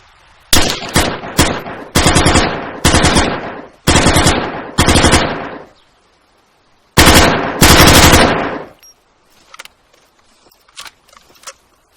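Rapid automatic gunfire from the IFA3WarMod video game mod, fired in several loud bursts separated by short pauses, followed by a quieter stretch with a few faint clicks and shots near the end.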